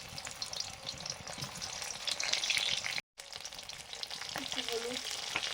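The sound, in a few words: frying boiled peeled potatoes in pan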